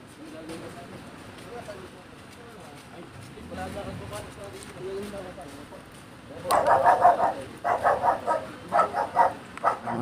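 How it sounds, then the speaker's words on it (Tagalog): Dog barking in a quick series of sharp, fairly loud barks in the second half, following quieter background noise and a voice talking earlier. "Aso."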